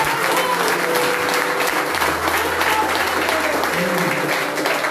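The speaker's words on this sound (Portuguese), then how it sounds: "Aplaude o nome de Deus, o nome de Deus Todo-Poderoso." Sustained applause from a church congregation during a worship service in Garanhuns, a dense, even wash of clapping filling the whole stretch with a faint low hum underneath.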